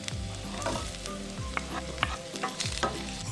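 Chopped onion fries in hot oil alongside garlic for a Jamaican ackee and okra cook-up, a soft continuous sizzle with small pops and a few stirring taps, under a low background drone.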